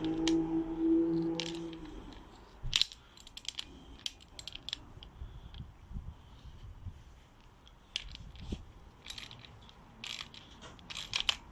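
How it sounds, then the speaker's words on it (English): Ratchet working a preload adjuster bolt on a 2012 Triumph Street Triple 675 R motorcycle, a series of scattered close clicks and metallic ticks after a brief low hum, fairly quiet. "One thing I forgot to do is loosen this bolt."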